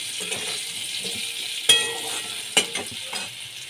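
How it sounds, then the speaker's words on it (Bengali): Potatoes frying in oil in a pan for a cauliflower and potato dish with raisins, giving a steady hiss broken by a few sharp stirring scrapes; no voices. "ভালো করে ভেজে নিতে হবে আলুগুলোকে"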